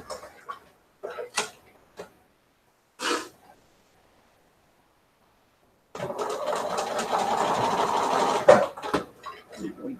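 A sewing machine stitches a scrap quilt in one close burst of steady whirring that lasts a few seconds, after earlier scattered taps and handling noises with quiet gaps between them.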